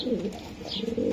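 A grizzle racing pigeon gives a soft, low coo close by, a single brief murmuring call over faint background noise.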